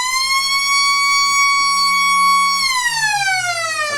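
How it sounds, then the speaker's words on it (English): Loud electronic siren at the Eastern Oval football ground, Ballarat, sounding to start the final quarter of a North Ballarat versus Redan match: a steady held tone that bends downward in pitch after a few seconds, with no talk over it. "we love that siren here at the Eastern Oval to get the final term underway"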